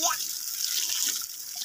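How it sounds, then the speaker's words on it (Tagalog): Tap water running for watering a vegetable garden plot, a soft steady hiss of flowing water, fairly faint and brief. "Ayun yung ating tubig, mga ka-page, nakasindi na rin."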